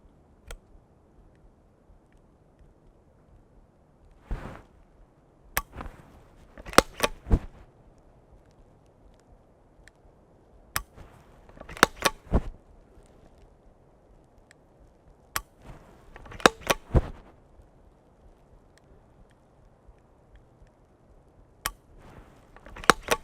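A Q trigger installed in a Honey Badger SD rifle dry-fires and resets, giving sharp metallic clicks spaced a few seconds apart, sometimes in quick pairs, close and crisp against a quiet room.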